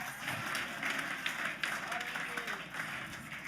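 Church congregation claps in a steady, fairly faint wash of applause during a sermon, with voices murmuring beneath it.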